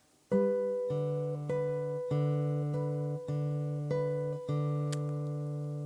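A guitar plays a steady, repeating fingerpicked pattern of ringing notes, each new note plucked about every half second and left to sustain, with no talking.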